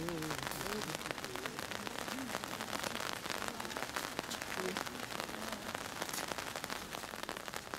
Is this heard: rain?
yes